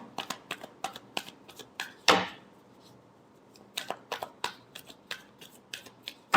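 Tarot cards being shuffled by hand, with quick bursts of crisp riffling flicks and one longer ruffle, pausing midway before another run of sharp card snaps, close and clear with no talking.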